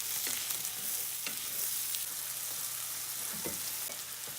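Mushrooms fry in a pan as they reduce toward golden brown, giving a steady broadband sizzle throughout with a few soft stirring scrapes and clicks, close and moderately loud, with no talking.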